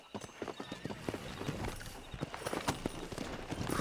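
Horse hooves clip-clop at a steady riding pace in Red Dead Redemption, with rhythmic close thuds, a brief whinny and a dense background of game ambience.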